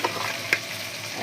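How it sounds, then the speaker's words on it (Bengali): Onion and garlic sizzle steadily in hot oil in a wok, a continuous crackling fry with a brief stir partway through. "পেঁয়াজ রসুনটা আমি লাল লাল করে ভাজা নেব।"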